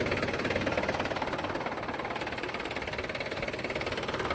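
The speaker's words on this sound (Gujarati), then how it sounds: "હવે ટ્રેક્ટર તો ફસાઈ ગયું છેલ્લા રનમાં" A tractor loaded with manure, stuck in a plowed field, runs its engine in a steady, close, unbroken rumble with a faint knocking pulse throughout.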